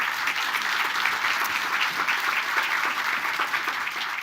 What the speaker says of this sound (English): a big applause, warm applause to Eric